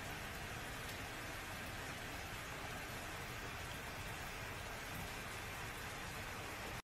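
Steady monsoon-season rain falls heavily and evenly, a dense continuous hiss of drops on surfaces that holds unbroken before stopping abruptly at the end.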